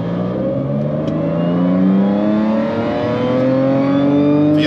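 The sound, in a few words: Audi B8 S4 engine at full throttle in third gear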